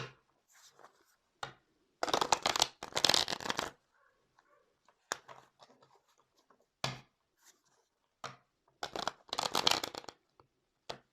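A large deck of tarot cards is shuffled by hand in two loud, rapid riffling bursts, separated by softer card slides and taps, close to the microphone, with no one speaking.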